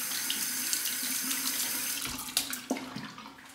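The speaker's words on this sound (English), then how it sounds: "I'm going to soak it under the hot water." Hot tap water runs steadily into a sink, soaking a badger-hair shaving brush, with a few splashy bursts as the brush is moved under the stream.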